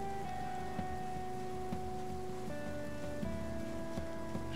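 Steady rain falls outside in the zombie survival game Project Zomboid, a constant hiss of drops under a sustained tonal game music bed, with no talking.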